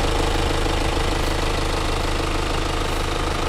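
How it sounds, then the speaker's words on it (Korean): A BMW 1 Series 118d M Sport (F40) diesel engine idles close by, a steady loud rumbling with an even mechanical knock that doesn't change throughout. "엔진 소리 일정하네요"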